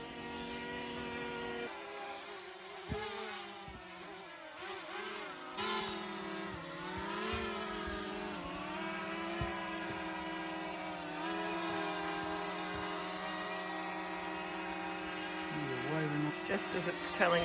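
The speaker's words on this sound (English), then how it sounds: "Drones in the air." A camera drone flies overhead at Boodjamulla (Lawn Hill) National Park in outback Australia, a sustained buzzing propeller whine with shifting pitch as it manoeuvres, moderately distant, with a few voices briefly in the background.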